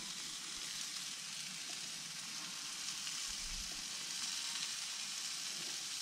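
Skewers of wood pigeon cook on a barbecue grill, giving a soft, continuous sizzle and crackle that carries on quietly and evenly with no voices.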